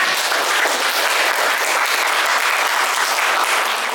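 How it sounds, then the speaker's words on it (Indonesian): A classroom audience at an Indonesian teacher-training assessment applauds a student group after its presentation: dense, steady clapping from many hands, fairly loud and even, lasting the whole stretch with no talk over it. "Berikan tepuk tangan ya."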